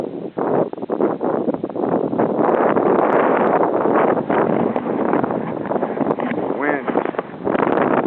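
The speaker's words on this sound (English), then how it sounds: "Wind kicking up here" Strong wind gusting through mountains after a spring snow, a loud, continuous buffeting roar striking the microphone almost the whole time, with a voice briefly audible partway through.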